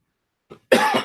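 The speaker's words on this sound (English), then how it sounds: "It's that lingering cough from a cold you just can't get rid of." A single close cough from a lingering cold, preceded by a faint short breath, loud and sudden against silence.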